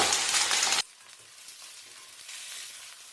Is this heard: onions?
yes